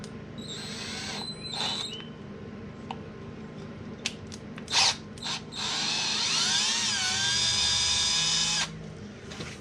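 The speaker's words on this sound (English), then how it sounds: "I'm gonna go ahead and try drilling this as straight as you possibly can" A cordless drill boring out a stripped thread on a Harley-Davidson Street Glide motorcycle, with short whirring bursts and clicks, then a longer steady high-pitched whine that shifts pitch as the bit bites into the metal.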